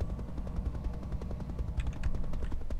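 Artillery barrage from a mech unit firing at a turret in Roguetech, a BattleTech video game: a dense, rumbling run of repeated low booms and cracks, steady and fairly loud, with sharper blasts near the end and no voices.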